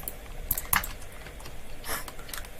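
Computer keyboard typing during a Bedwars game session, a few sparse, quick key clicks near the start and a brief burst later, with no talk.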